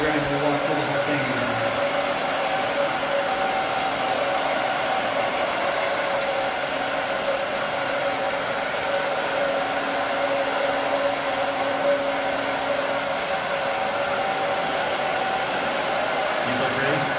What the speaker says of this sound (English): As soon as I get done blow drying, we'll walk through the whole thing.